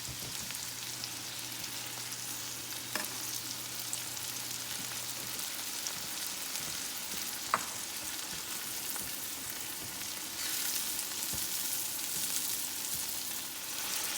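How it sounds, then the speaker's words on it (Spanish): Tomatoes frying with garlic in a pan, a steady close hiss and sizzle that runs throughout, broken by a few small clinks of stirring, with no talk. "Ahora sí vamos a agregar nuestros jitomates."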